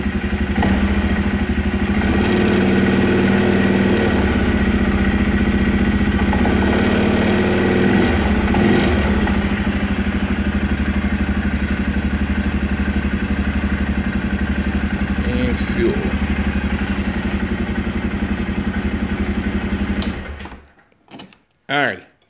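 A cold engine idles for a long stretch in a loud, steady, rapid mechanical chug with some rattle, then shuts off and leaves near silence apart from a couple of short knocks.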